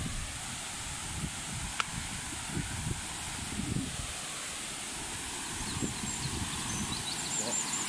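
Blangy waterfall cascades swollen by recent rain give a steady, loud broadband roar that fills the whole stretch, with faint murmured talk and small rustles beneath it.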